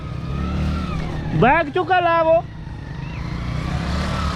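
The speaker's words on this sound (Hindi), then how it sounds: "इधर चेक करें कि बाइक बड़ी मुश्किल है चढ़ाई करने पे" A motorcycle engine strains up a muddy off-track village hill road in the rain in Samahni valley, Azad Kashmir, its revving whine rising briefly over a steady background rumble while people talk nearby.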